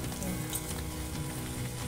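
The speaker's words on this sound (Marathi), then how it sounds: "आपलं तेल तापलं आहे, आपण हे पुऱ्या तळून घ्यायचे" Spicy salted puris fry in hot oil in a dense, even crackling sizzle that runs close and steady, with no one talking.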